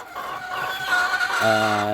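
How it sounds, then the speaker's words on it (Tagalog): Young pullets, mildly sick with colds and kept in a backyard coop, cluck and call in a steady, close chorus, with a sustained tonal call at the end. "maririnig po natin mga ka-agri, yung mga huni ng dalaga"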